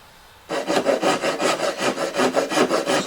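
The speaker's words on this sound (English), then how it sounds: "I will come over and I will saw my lines" A handsaw cuts along marked lines on plywood during a shop table build, giving a steady back-and-forth rasp of about a dozen rhythmic strokes, close and loud with no talking.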